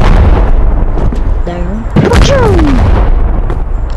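A voice imitates an RPG rocket launcher firing, giving a sharp burst with a descending whooshing whine after it, close and loud over noisy background chatter.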